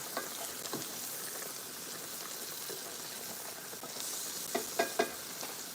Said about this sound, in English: Stir that. They're so soft now. Saute that.